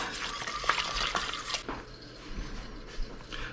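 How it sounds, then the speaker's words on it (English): Whisking gravy in a pot for a slow cooker bottom round roast, with quick metallic scraping and liquid stirring that is busy at first and then eases into softer swirls. "Let me just whisk all this in."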